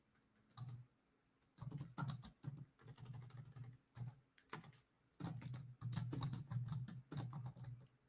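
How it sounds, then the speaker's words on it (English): Someone types on a computer keyboard up close in quick irregular bursts of soft clicks and clacks, with short pauses between runs, in an otherwise quiet room. "I'm typing."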